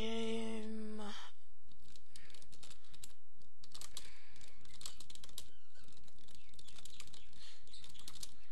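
A chat message is typed on a computer keyboard during a browser game, a close run of quick, uneven key clicks with short pauses following a brief tonal game sound at the start.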